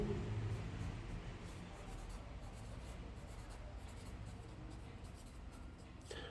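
A pen scratches and rubs on paper during a step-by-step strawberry painting lesson, faint and continuous at close range, with no talk.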